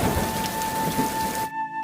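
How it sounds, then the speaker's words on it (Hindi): Heavy rain with cold wind, a dense steady hiss of downpour with low rumbling gusts, close and constant before cutting off abruptly near the end; a faint steady electronic tone runs beneath it. "बाहर तेज बारिश और ठंडी हवाओं का सिलसिला लगातार जारी था।"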